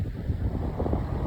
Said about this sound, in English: It is definitely windy here on Whitney Beach